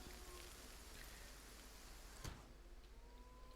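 Steady rain falls in the fantasy video game Pathfinder: Kingmaker, a constant soft hiss of drops with one brief crackle partway through and no voices.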